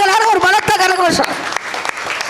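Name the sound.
audience applause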